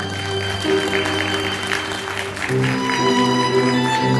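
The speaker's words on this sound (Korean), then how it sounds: "다시 한 번 큰 박수 부탁드립니다." Guests applaud during a wedding ceremony in a hotel hall as the mothers light candles, a loud, sustained wash of clapping over steady background music.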